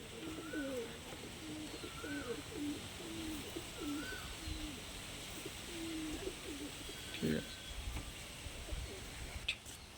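Golden pigeons cooing, with soft repeated low coos in a steady rhythm through a constant hum of background noise, plus a few brief clatters toward the end; voices murmur faintly now and then.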